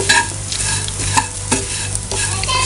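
Soya chunks are stir-fried over a low flame, a loud, close, continuous sizzle with a few scraping stirs of the spatula, no voices.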